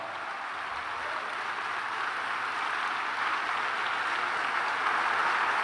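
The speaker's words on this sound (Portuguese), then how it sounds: "Fique em pé, em nome de Jesus, e aplauda o Senhor." Church congregation standing and applauding, a dense continuous roar of clapping that holds steady and slightly swells, with no voices over it.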